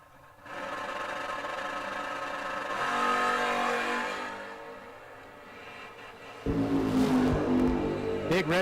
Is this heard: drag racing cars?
yes